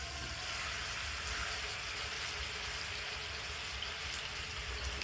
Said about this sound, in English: we got our meat frying